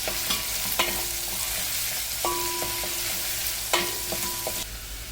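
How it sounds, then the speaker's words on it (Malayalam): Onions for a restaurant-style poori potato masala are stirred and sautéed in a pan, a continuous sizzle broken by repeated clinks and scrapes of the spoon against the metal, close and without any talk. "സവാള കൂടി നമുക്കിതിലേക്ക് ചേർത്ത് കൊടുത്ത് നന്നായി ഒന്ന് മിക്സ് ചെയ്ത് ഒന്ന് വഴറ്റിയെടുക്കാം."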